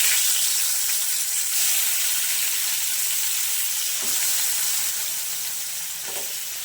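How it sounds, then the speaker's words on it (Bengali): Parshe fish fry in hot mustard oil in a pan on the stove, giving a steady, loud hissing sizzle with a couple of small pops and no voices. "তেল গরম হয়ে গেছে, মাছগুলো ছেড়ে দেবো।"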